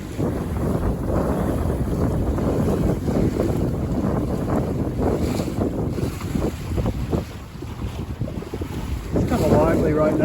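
Sailboat moving briskly through the water on the Columbia River in late fall, with constant loud wind buffeting the microphone and steady wash of water along the hull throughout.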